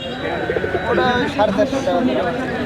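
Pigeons coo and flutter at a busy village pigeon market in Taherpur, Bagmara, Rajshahi, Bangladesh, with close crowd chatter and talking voices over the birds.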